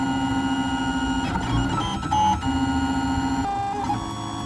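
A 3D printer in the middle of a print makes steady stepper-motor whines that shift pitch as the head moves, with sustained tonal hums and brief pauses. The sound is moderately close and there is no talking.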